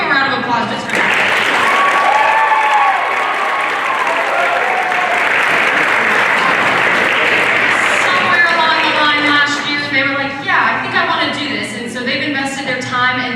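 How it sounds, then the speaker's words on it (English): Audience at a middle and high school Christmas band concert applauds warmly, a sustained wash of clapping with voices and cheers rising through it, strong throughout and easing slightly near the end. "let's give them a round of applause just for that"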